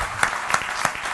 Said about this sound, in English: let's just give a very loud and warm round of applause